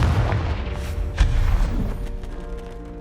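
A Confringo spell explosion in the video game Hogwarts Legacy lands as a deep booming blast with a heavy low rumble, followed by a lingering, fading tail of debris and ambient game sound.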